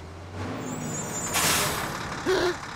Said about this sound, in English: It's the garbage truck.